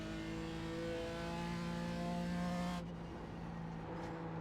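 A Pontiac GT4 race car's engine drones loud and steady with layered harmonics while circling Summit Point in iRacing, then the pitch drops sharply as the revs fall off.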